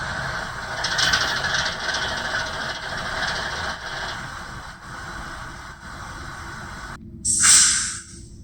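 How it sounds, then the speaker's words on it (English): ScaleTrains ES44AC model locomotive sound decoder running through its shutdown, a steady hissing diesel drone that winds down and cuts out, followed by a sharp burst of air release, close and moderately loud. "here is the shutdown of the locomotive by turning off function 8"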